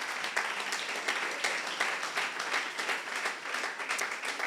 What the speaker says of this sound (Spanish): Podemos darle un aplauso al Cristo de la gloria